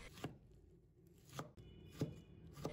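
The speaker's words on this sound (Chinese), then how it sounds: "最后改刀切成小丁，这样切西红柿又快又方便。" A knife dices tomatoes into small cubes on a board, giving four quiet, distinct chops spaced about a second apart, nearby and without speech.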